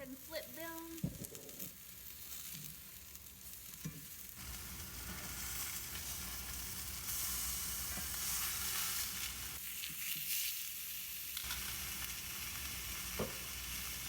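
Chicken pieces being flipped in a pan while cooking beer braised chicken: a few clunks and scrapes at first, then a steady, fairly loud sizzle that swells and continues, with occasional faint talk.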